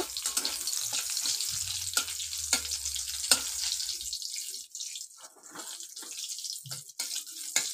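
Three whole chillies and two bay leaves fry in hot oil in a pan, a steady sizzle with light crackles and a few clinks from stirring. The frying thins out toward the end.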